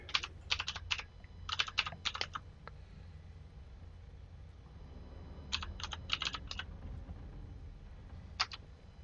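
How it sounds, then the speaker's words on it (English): Typing on a computer keyboard during a gaming session: quick bursts of crisp key clicks, two clusters early and another midway, then a few isolated taps, close and fairly quiet over a low room hum, no talking. "But yeah, typing on this thing's so much better."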